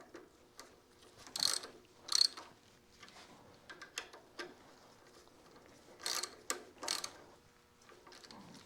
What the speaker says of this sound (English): Get a wrench to tighten those down.